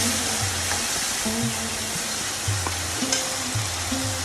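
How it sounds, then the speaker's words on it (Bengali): Spice masala sizzling and frying in a pan for a Bengali mutton bhuna, with repeated scraping stirs of a spoon in a steady rhythm, loud and close, with no talk. "মশলাটা আমি ভালো করে কষিয়ে নিচ্ছি দেখেন"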